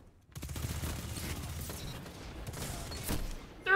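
Recluse submachine gun fire in Destiny 2, a dense rapid rattle of automatic shots running almost without pause for a few seconds, close and steady, with other game effects mixed in.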